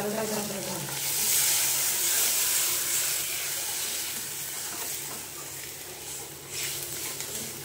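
Spice paste being sautéed in a pan for a radish curry, giving a steady, close sizzle and hiss that rises and falls slightly throughout.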